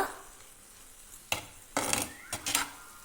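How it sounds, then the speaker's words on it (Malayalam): Ridge gourd with dried shrimp, garlic and grated coconut stirred in a pan, a quiet background broken by a few sharp scraping bursts of spoon against pan, with no talking. "എല്ലാം കൂടെ നന്നായി മിക്സ് ചെയ്ത് കൊടുക്കുക"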